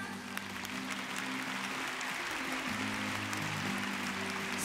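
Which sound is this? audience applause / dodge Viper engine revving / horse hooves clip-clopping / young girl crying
audience applause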